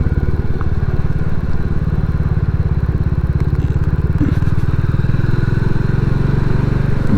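A Royal Enfield Classic 350 motorcycle rides along with a steady, thumping single-cylinder exhaust beat, close and continuous, with rattly clatter over the engine and no talk.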